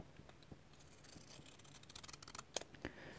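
A long pair of large scissors cuts through paper for a junk art journal, giving a series of quiet crisp snips and rustles that quicken into a cluster of sharper cuts near the end, close by with no speech.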